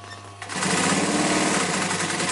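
A sewing machine lock-stitching a half-inch cushion seam starts up after a brief quiet moment, then runs in a steady, close, loud mechanical whir with a rapid needle rhythm.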